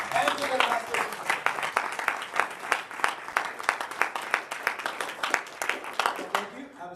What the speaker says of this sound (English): Give them a round of applause, well.